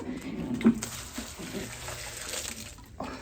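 Water pours and splashes steadily as plants are watered inside a greenhouse, a moderate nearby gush with small irregular surges and no talking.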